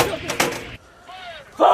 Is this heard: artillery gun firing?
yes